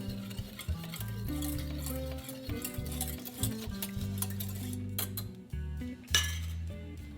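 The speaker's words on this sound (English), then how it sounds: "Then set it to the side and add the sugar. Mix until all the sugar is dissolved." Sugar stirred into warm milk in a small pot: a spoon clinks and scrapes steadily against the metal over a bed of soft background music, with a few brighter chinks toward the end.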